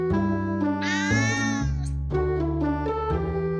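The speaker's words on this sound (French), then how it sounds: "Un miaulement long indique que votre chat n'est pas content de vous voir." A cat meows repeatedly up close, a series of drawn-out, tonal cries with varying pitch, one rising into a higher wavering call.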